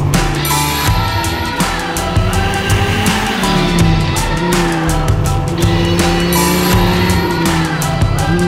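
A Dodge Viper ACR laps a race track under a noise restriction, its engine holding loud sustained harmonic tones that rise and shift through gear changes, heard from close by with no talk.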